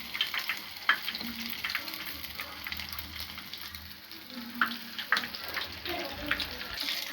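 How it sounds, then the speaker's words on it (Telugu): Coated chicken sticks deep frying in hot oil give a steady, close sizzle with scattered crackles and pops throughout. "ఇలా అప్లై చేసుకున్నవన్నీ ఆయిల్లో వేసుకొని వేయించుకోవాలి"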